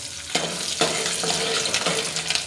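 Garlic sizzling in hot oil in a pan while cooking guvar (cluster bean) curry, a steady loud frying hiss with a few sharper crackling bursts, no voices.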